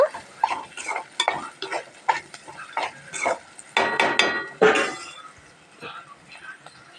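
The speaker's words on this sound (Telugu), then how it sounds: "ఇగో పసుపు వేస్తున్నాను. పసుపు అయితే ఒక స్పూన్ పట్టింది. మంచిగా గలబెట్టుకోవాలి పసుపు వేసినాక." A spoon stirs turmeric into ivy gourd frying in oil in a pan, with scraping and clinking strokes in irregular bursts between quieter moments, and a voice talks over the cooking.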